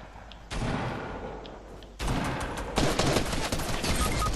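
Dense, loud bursts of gunfire from a Fortnite match, with a sustained barrage that starts, intensifies around the midpoint and grows heavier toward the end, sounding like rapid overlapping shots.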